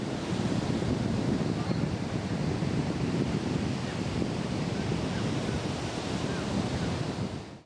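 Wind-driven sea waves wash onto Bilgah beach, a continuous loud roar of surf with steady wind noise buffeting the microphone throughout, no voices.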